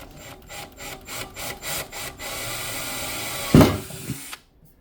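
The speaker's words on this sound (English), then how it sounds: "we got the drill with a little 5/64 drill bit" A power drill with a small 5/64 bit whirs in a series of short pulses, then runs steadily with a grinding bite while boring a pilot hole, before cutting off abruptly.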